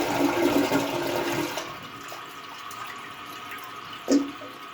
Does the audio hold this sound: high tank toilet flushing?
yes